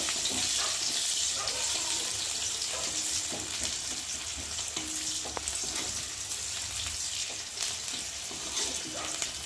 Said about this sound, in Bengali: একটা পেঁয়াজ কুচিয়ে রেখেছি সেই পেঁয়াজটা আস্তে আস্তে ভালো করে ভেজে